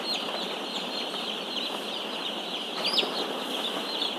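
Broiler chickens inside a poultry house make a dense, continuous chorus of high peeps and clucks, fairly faint and steady, with a few louder calls standing out.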